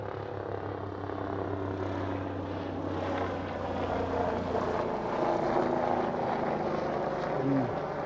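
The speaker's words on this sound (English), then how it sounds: "And you get a helicopter patrol with it." Steady droning engine of a helicopter passing overhead, loud and continuous, swelling slightly toward the end.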